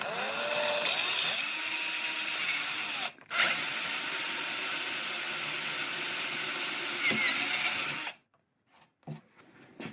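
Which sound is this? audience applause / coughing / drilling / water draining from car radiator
drilling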